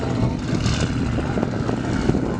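At a hot rod car show beside a track, a dense, loud engine rumble fills the air continuously, with slight revving swells and no clear talk.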